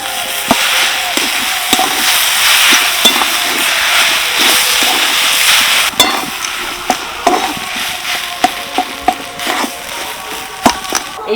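A spatula scrapes and taps through a vegetable chop mixture with chopped coriander in a pan, with irregular clacks over a steady sizzle, growing sharper toward the end.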